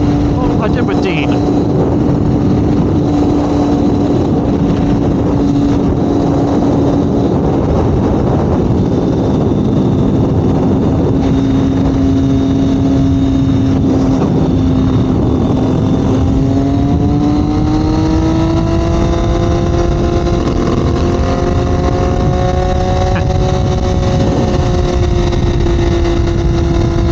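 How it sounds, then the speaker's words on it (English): A 2021 Triumph Daytona 765 Moto2 motorcycle riding down the road, its engine holding a steady loud drone before the pitch climbs as it accelerates and shifts, with people talking over it. "I never get to see that bike going down the road without me on it."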